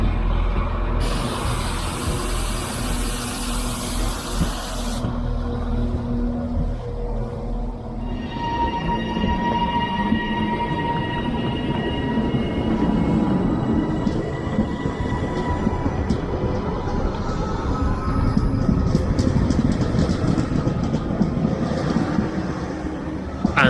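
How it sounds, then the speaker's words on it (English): A Northern Class 195 diesel train pulls into Oxenholme station, a strong rumble joined by a high hiss of air brakes early on, then a steady engine drone and squealing wheels as it rolls in close. "a very smart looking Northern Class 195 was arriving from the Windermere branch"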